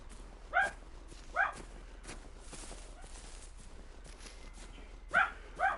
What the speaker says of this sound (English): my dogs cannot allow anything to go unnoticed without barking at it